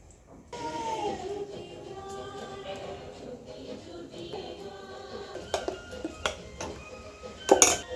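Dhokla batter with squeezed lemon being stirred in a metal pot, soft scraping with sharper clinks of a spoon against the rim toward the end, close by and without talking.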